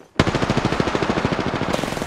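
Flatline assault rifle from Apex Legends with the Heat Sink skin firing on full auto, a rapid evenly spaced stream of loud punchy shots that starts abruptly and continues without a break.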